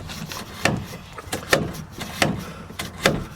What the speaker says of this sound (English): open and close the valves about a half a dozen times, and it takes care of that